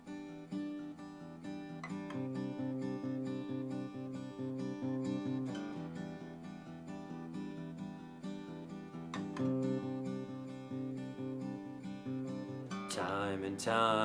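Steel-string acoustic guitar fingerpicked in a steady, repeating arpeggio pattern, the intro to a song, played close and clear with no talking, ending with a brief bright flourish.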